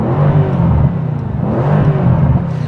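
A Mercedes C63s AMG with a Stage 1 tune and stock downpipes revs repeatedly, the engine swelling and falling in two or three blips, loud and close with a deep, rumbling tone.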